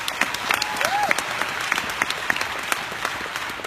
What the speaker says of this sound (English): So give them a round of applause really quickly.